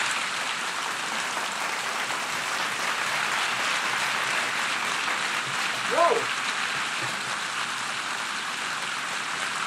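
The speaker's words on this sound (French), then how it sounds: "Les applaudissements comme ça à l'ONU" Sustained applause fills the United Nations General Assembly hall, a dense, even patter that stays steady throughout, heard faintly as if from a distance.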